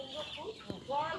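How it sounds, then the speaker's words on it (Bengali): Domestic chickens at a village home cluck briefly and softly in the background while a person talks over them. "দেখো এই দেখো মুরগি এখানটায়, দেখেছো কত মুরগি রয়েছে"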